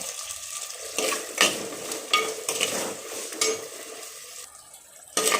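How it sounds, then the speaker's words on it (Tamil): Tomatoes and onion sauté in a pan with a soft background sizzle. Repeated spoon scrapes and stirring strokes come every half second or so, the sizzle fades briefly near the end, and there is no speech. "இப்போது தக்காளி ஓரளவுக்கு வதங்கிடுச்சு."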